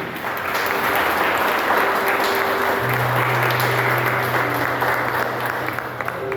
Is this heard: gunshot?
no